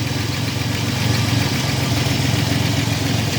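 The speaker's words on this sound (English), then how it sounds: "It's alive, it runs, and hopefully soon we'll be driving." A Chevy S10 pickup truck engine idles steadily and close by, with a constant low rumble and a fast, even chug running throughout, and no other sound over it.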